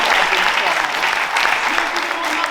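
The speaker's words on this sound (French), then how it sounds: "Clémence, merci, on les applaudit toutes les deux." At an improv show, the audience gives two performers a brief burst of steady, loud applause, with dense clapping throughout and a voice faintly audible in the background.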